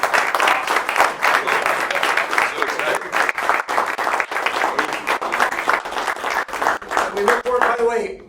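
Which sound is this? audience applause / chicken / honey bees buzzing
audience applause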